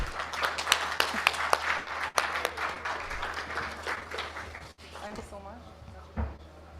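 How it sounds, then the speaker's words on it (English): A conference audience applauds a speaker as he is called to the stage, sustained clapping across a hall with a low hum underneath, tapering off into quieter room noise near the end. "let's call upon none other than, with a big and a massive round of applause, Mr. Ratnakar Patnaik."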